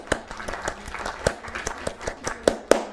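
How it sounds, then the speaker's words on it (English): Scattered clapping from a small group, uneven individual claps spaced irregularly rather than a dense ovation, moderately quiet. "Another round of applause."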